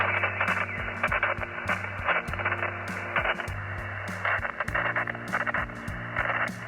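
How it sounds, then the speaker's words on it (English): Static crashes from a nearby thunderstorm break over a ham radio receiver, loud irregular bursts and crackles cutting through a steady hiss, with no talking. "So you can hear all the static crashes."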